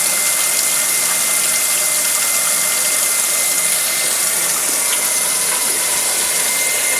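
Cold well water runs steadily into a kitchen sink, a continuous broadband gushing rush, loud and close, with no talk over it.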